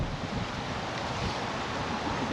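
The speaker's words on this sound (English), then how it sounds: "A little bit windy here." Steady, loud wind buffets the microphone outdoors on a motorcycle trip in Baja, Mexico, a continuous rumbling roar with no pauses.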